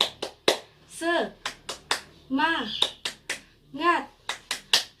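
A class of schoolchildren performs the 'tepuk semangat pagi' clap routine, sharp rhythmic hand claps alternating with short chanted words in children's and a teacher's voices.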